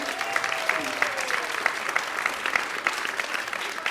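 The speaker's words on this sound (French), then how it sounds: "applaudissez Laurine" Audience applause for a third-grade class's sung stage show about Mount Olympus, with dense, steady clapping filling the hall throughout and a faint voice briefly audible underneath.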